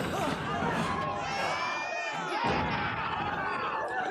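Crowd cheering during a Squid Game episode, a dense, continuous roar of voices with overlapping shouts and chatter that stays loud and steady throughout.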